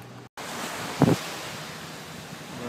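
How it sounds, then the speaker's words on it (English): Ocean waves washing onto a sunny beach in Santa Barbara, a steady broad surf wash with wind buffeting the microphone and one brief louder splash near the middle. "we're back on the beach"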